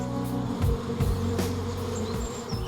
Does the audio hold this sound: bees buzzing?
yes